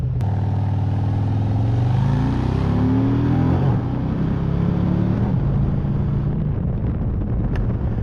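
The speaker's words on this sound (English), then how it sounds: "while I'm riding around, I'm checking to see if the motor feels smooth" A Harley-Davidson motorcycle with an M8 engine accelerates while being ridden, its loud engine note climbing steadily in pitch over several seconds before leveling off, with steady wind rush over the microphone throughout.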